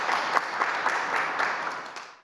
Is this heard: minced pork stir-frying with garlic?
no